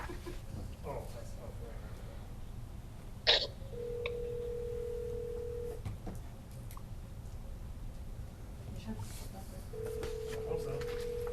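A telephone call placed on speakerphone during an Algoma City Council meeting in City Hall: two long, steady ringback-style tones, separated by a gap, sounding over faint room murmur and a brief clatter.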